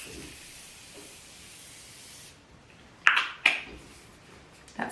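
Morphe Continuous Setting Mist sprayed onto a face, two short sharp hissing spritzes close by, following a quiet stretch of soft background hiss.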